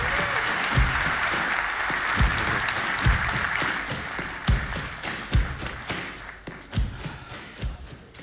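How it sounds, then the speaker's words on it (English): Conference audience at a DockerCon keynote applauds, sustained hall clapping with scattered heavy thuds, swelling briefly before tapering off toward the end. "So a huge round of applause to them"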